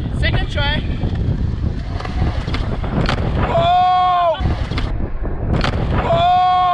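Loud, constant wind buffeting the microphone at Borrego Springs, with people shouting and whooping over the roar.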